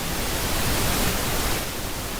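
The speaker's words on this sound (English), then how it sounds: "Is it pink noise?" Pink noise plays loud and steady as an even, rain-like broadband hiss that holds without change for a couple of seconds, with no one talking.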